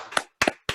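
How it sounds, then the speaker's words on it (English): Scattered applause from a small audience after a lecture on 1960s Boston fire photography, three separate sharp claps spaced apart, close and fairly quiet. "give Bob one more big round of applause for that phenomenal presentation"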